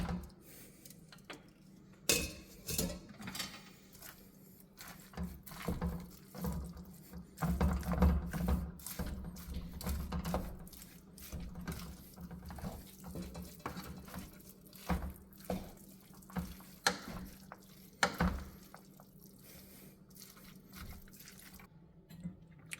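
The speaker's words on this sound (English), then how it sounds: "now we're going to add our chickpeas and our rice" Dry chickpeas and rice are poured and stirred into a pot for stuffed bell peppers, giving scattered rattles and light clinks of grains and utensils against the pot, close and fairly quiet.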